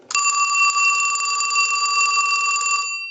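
A Mickey Mouse novelty telephone's bell rings in one continuous metallic trill for nearly three seconds, loud and close, then stops with a short fading tail and no voices.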